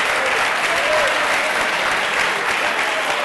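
Steady, dense audience applause during a Catalan spelling-bee quiz show, loud and continuous throughout with no pauses.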